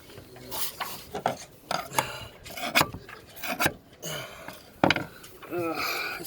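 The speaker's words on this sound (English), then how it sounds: "I have to get my screwdriver under there and pry it up underneath" Screwdriver prying up a deck plate on a boat's windlass: irregular metallic scrapes, rasps and clinks in uneven bursts, close by, with faint voices in the background.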